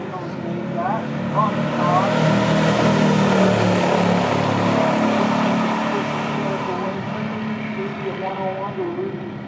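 A 1970 Chevrolet Corvette 454 and a 1968 Buick GS 400 in a stock drag race, loud sustained V8 engine roar at full throttle that swells and then fades slightly, with an announcer talking over it.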